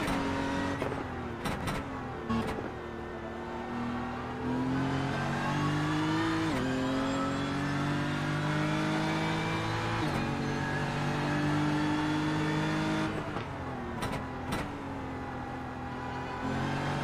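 A BMW M4 GT3 race car in iRacing revs through the gears, its engine note climbing and dropping in repeated sweeps with brief shift cuts, loud and close, without speech.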